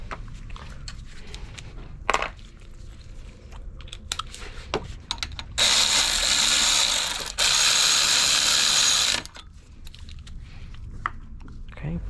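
A ratchet clicks steadily while tightening a bolt on a Lexus IS300 alternator, with several seconds of loud continuous ratcheting and quieter mechanical handling and clatter around it.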